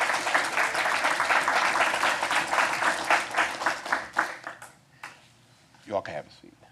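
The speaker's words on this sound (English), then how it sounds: "Let's give a big round of applause to" Applause from the audience at a county commission meeting, greeting the class of 2026 with dense clapping that thins out and fades over the last couple of seconds.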